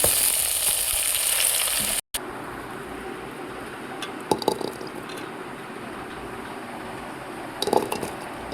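Small onions, garlic and tomatoes sizzle steadily in a hot pan for fish curry, with a brief cut partway through and occasional clinks of a utensil stirring.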